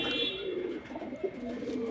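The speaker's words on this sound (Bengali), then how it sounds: "একজোড়া নাপ্তা পায়রা" Nakhta pigeons coo softly nearby, a low throaty burbling that rises and falls for a couple of seconds.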